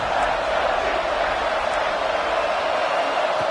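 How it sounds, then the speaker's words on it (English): Loud, steady roar of a football stadium crowd during a Clemson versus Temple game, urging the defense on in the red zone; a dense, continuous wash of noise that stays level throughout. "Comes the noise. This crowd is trying to inspire this defense to make a big red zone stop."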